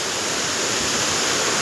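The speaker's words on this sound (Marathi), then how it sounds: "इकडे धबधबा पडतोय." A steady roaring rush of a waterfall at a dam in the Konkan region, loud and unbroken white-noise-like torrent heard nearby with no other sounds.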